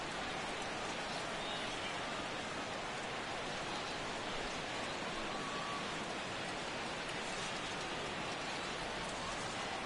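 Steady rain at a baseball game in MLB The Show 16, a constant even hiss of falling water with no breaks or talking.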